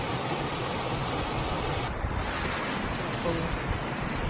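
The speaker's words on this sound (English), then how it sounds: "It's just a little waterfall here on the side of the road." Steady rushing water fills the air, a continuous broadband roar of a small roadside waterfall in North Georgia close by, with no voices.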